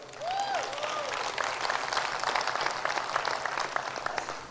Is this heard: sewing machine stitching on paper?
no